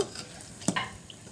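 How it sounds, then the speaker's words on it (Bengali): Soft, quiet sizzling of potato snacks frying in hot oil, with a brief clink of a utensil partway through. "তেল গরম হয়ে গেলে দিয়ে দিচ্ছি নাস্তাগুলো।"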